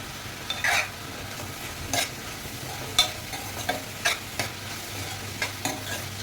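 Onions sauté in oil in a pan while being stirred, giving scattered scraping knocks over a soft, continuous frying hiss, with no talking.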